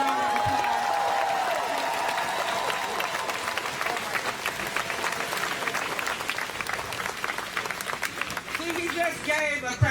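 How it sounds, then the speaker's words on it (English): Sustained applause from a crowd at an outdoor protest near the Minnesota governor's residence in St. Paul, a dense, even clatter of clapping lasting about ten seconds, with a voice audible near the start and cheering near the end. "Let's give Bruce another round of applause."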